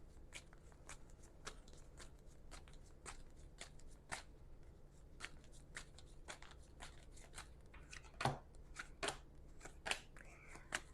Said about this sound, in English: Let's get the other cards out and see what we've got here.